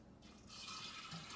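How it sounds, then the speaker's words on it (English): Water runs into a sprouting jar holding rinsed beans, starting quietly and rising into a steady close pouring rush that keeps going to the end. "Then I'm gonna fill it back up with water."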